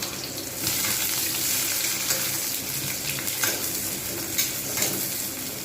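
Onions frying in a pan for a mashed potato chokha: a steady, dense sizzle with occasional scrapes of stirring, fairly close and continuous with no voice over it.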